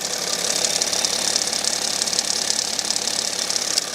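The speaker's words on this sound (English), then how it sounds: "you may or may not be able to hear a metallic rattle, and I'm pretty sure it is actually the alternator." Metallic rattle from a failing alternator pulley on a BMW M57 diesel engine, a steady close ticking clatter running continuously over the engine's running hum with no talk.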